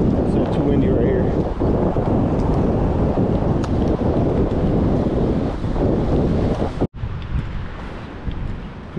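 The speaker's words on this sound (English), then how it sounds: "it's a little too windy right here" Strong wind buffeting the microphone at a Southern California surf beach, a loud continuous roar with gusts, briefly dropping out near the end before resuming more softly.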